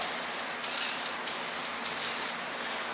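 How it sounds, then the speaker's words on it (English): Spray can laying a thin coat on an IS300 bash bar, a steady hissing spray lasting the whole clip with brief gaps, close and fairly loud, no talk. "this stuff sprays like water. So spray it super thin."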